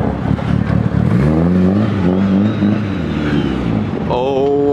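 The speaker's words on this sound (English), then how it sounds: "We got one Evo, one Supra, another Supra, the Z06, 2 GTRs behind it?" Sports cars, including an Evo, Supras, a Z06 and GTRs, arrive nearby with engines revving and rising in pitch, loud and close, with voices talking over the engine noise.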